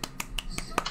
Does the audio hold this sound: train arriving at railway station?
no